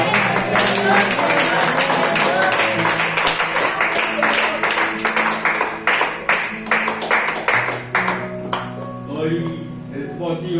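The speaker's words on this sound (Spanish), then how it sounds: "dale otra ofrenda de aplauso por los salmistas, por esta alabanza" Church congregation applauding the psalm singers, loud dense clapping filling the room and then thinning out toward the end, with voices and music over it.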